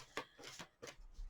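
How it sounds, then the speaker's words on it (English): Oracle cards being shuffled by hand during a tarot reading, giving four quick papery riffling bursts close up with no talking. "I'm also going to shuffle these. These are more oracle cards,"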